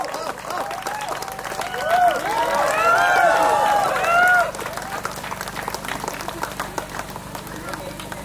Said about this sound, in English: Can we have a round of applause and a really loud round of applause, please?